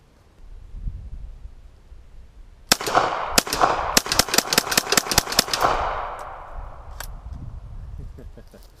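A Thompson M1 reproduction fires its last rounds outdoors: a rapid string of sharp, loud gunshots in uneven bursts, with a low engine-like rumble underneath before and after.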